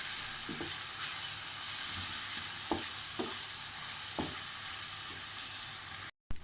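Chicken fries in a pan for restaurant-style Chinese rice, giving a steady, even sizzle with a few soft clacks of stirring. Nobody speaks.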